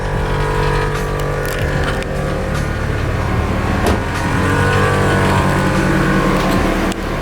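A BMW E92 engine held at raised revs during an Air Lift 3S air suspension install, a loud, steady, continuous drone with slight fluctuations and no voices.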